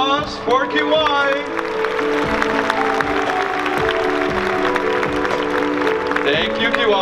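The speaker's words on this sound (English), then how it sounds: "A huge round of applause for Kiwai." Audience applause and cheering at a cosplay contest at DreamHack 2022, a steady crowd roar under loud stage music, with a voice speaking over it.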